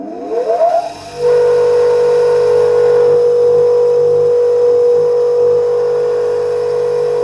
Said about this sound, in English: I've got a nasty vibration or a nasty noise on it.